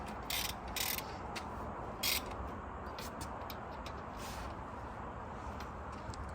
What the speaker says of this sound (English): So now we need to tighten the wheels, which is 120 torque.